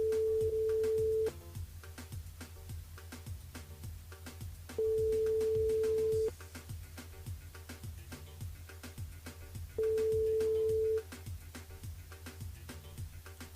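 Telephone ringback tone on a line while calling back a radio listener: three long steady beeps spaced a few seconds apart, with quiet background music running underneath.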